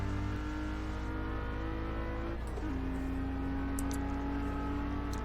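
A Lotus Esprit in Test Drive Unlimited 2 holds a steady engine drone at cruising speed, with a faint shift in pitch partway through and no talk.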